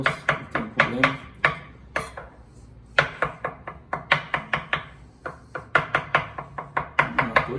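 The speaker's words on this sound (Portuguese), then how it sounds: "Ovo cozido, picado grosso. Pode picar grosso." Knife chopping coarsely through boiled eggs on a cutting board, a run of sharp, close knocks in quick bursts with short pauses between groups.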